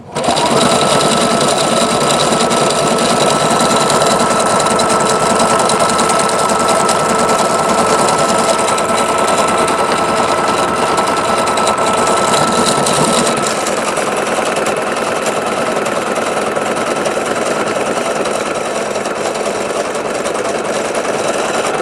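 A Juki HZL-F300 or Singer XL-550 sewing machine stitches metallic thread through fabric, a loud, close, steady whirring hum that runs without pause for the whole stretch, with no one talking.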